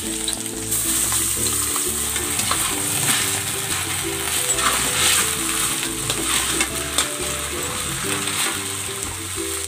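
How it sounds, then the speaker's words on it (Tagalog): A floured pork hamonado roll sizzles steadily as it pan-fries in cooking oil in a regular, non-non-stick pan, with crackling and popping throughout and occasional stirring, and no one speaking. "Pan-fry ko muna itong ating hamonado roll."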